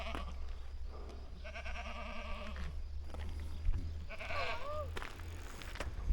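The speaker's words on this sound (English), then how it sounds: "fascinated by the goats" Several goats bleat in long, wavering calls from close by, two distinct bouts separated by a quiet pause, over a low outdoor rumble of wind or traffic. No speech.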